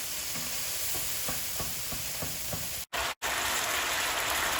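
Dense, steady hiss and crackle of slices frying in olive oil in a hot pan for Greek moussaka, with a few soft clicks of stirring and two brief dropouts of silence.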